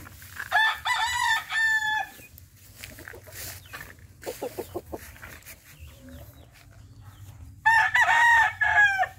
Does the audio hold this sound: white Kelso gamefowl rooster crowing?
yes